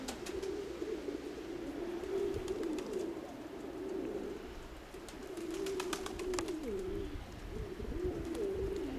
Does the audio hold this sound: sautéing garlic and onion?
no